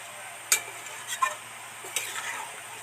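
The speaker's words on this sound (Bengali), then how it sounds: "এবার সুন্দর করে নেড়ে চেড়ে মিশিয়ে দেব" Kashmiri chili powder stirred into a potato curry (Kashmiri aloo dum), a few quiet scrapes and taps of a spoon against the pan over a faint background hiss.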